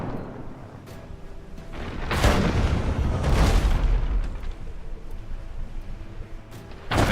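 Heavy ship cannon fire in the naval combat game Abandon Ship, deep booming blasts rolling out in two or three big bursts, with a fresh boom at the end.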